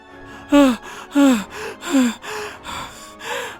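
An animated cartoon character pants after fleeing a lion in a jungle, with a run of sharp, voiced gasping breaths, loud and close, at an uneven rhythm.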